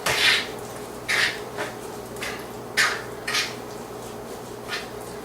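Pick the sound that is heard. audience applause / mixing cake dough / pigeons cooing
mixing cake dough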